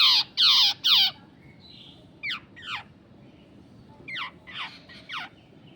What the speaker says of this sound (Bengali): জঙ্গল ব্যাবলার বলে এই পাখিটিগুলোকে।